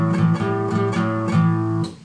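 Guitar strumming a blues rhythm in A on the fifth and fourth strings, steady repeated downstrokes with sustained low notes, close and clear with no talking.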